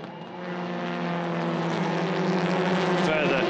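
TCR touring race cars at the Hungaroring circuit roar past in a steady, loud, sustained engine drone that swells slightly, with a race commentator's voice over it.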